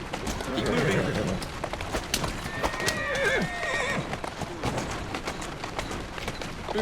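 A horse in Assassin's Creed Syndicate neighs a few times while its hooves clip-clop steadily in a close game soundscape. Quiet talk is heard now and then.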